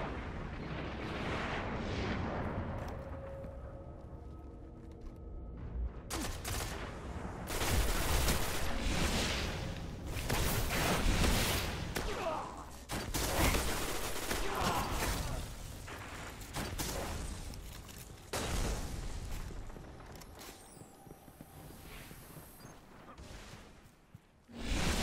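The Icebreaker weapon fires in a video game during a Control match: loud, booming shots and bursts of gunfire come repeatedly over a dense, rumbling backdrop of battle noise.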